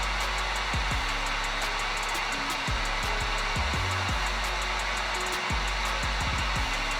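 A heat gun blows a steady, loud broadband hiss while warming a Gunskins rear grip skin, with no talking.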